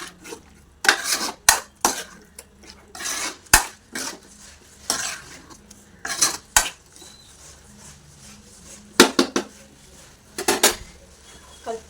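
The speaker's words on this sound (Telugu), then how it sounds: "అల్లం, వెల్లుల్లిపాయ, నిమ్మరసం ఇవన్నీ వేసి ఆ పేస్ట్ని వేసుకొని బాగా మిక్స్ చేసుకోవాలి" Chicken pieces being mixed with a ginger, garlic and lemon paste in a metal vessel, with close, irregular scraping and clattering bursts of a utensil against the pot separated by short quiet gaps.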